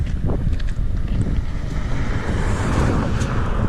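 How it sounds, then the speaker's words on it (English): Strong wind roars steadily through trees outdoors, a dense continuous rush with gusty buffeting against the microphone and no speech. "You can see the wind blowing the trees."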